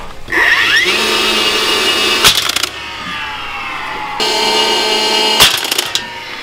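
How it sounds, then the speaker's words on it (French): A nail gun fires nails to fix a metal rail onto a steel I-beam during a house renovation, with two sharp, loud shots a few seconds apart over a steady motor hum, no talk. "on doit clouer un rail sur l'IPN en acier"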